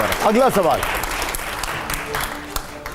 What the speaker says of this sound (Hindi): जोरदार तालियां हो यहां पर